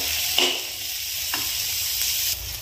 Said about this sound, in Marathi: त्याच्यामध्ये आता टोमॅटो टाकून देऊ। छान सगळं असं फ्राय करून घ्यायचं।